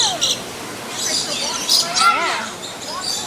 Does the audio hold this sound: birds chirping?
yes